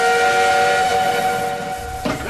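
A loud, sustained steam whistle sounds, holding a steady chord before cutting off, followed by a brief burst of hissing steam.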